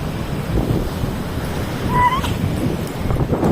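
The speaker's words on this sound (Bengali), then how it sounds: "কারণ সেখানে এত হাওয়া দেয়।" Wind blowing at the seaside buffets the microphone in a steady, loud roar with slight surges, and no voices are heard.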